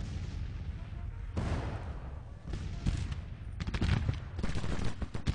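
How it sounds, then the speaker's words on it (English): Dense, continuous battlefield fire from the Civil War strategy game Grand Tactician: booming artillery mixed with crackling rifle volleys, loud and rolling with no pause. "They are firing at that artillery."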